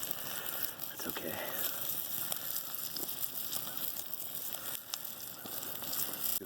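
Vegetables sizzling in a skillet over a campfire, a steady dense crackle and hiss with occasional pops, continuous and fairly close throughout.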